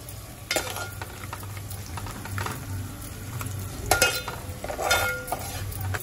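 Sliced onions frying with salt in a pan for a Koli-style prawn gravy, a constant low sizzle with intermittent scraping strokes of a spoon stirring against the pan.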